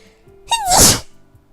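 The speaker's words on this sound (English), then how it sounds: "Oh boy, I feel a sneeze already" A single loud sneeze, a rising intake that bursts into a sharp, breathy explosion, close and alone.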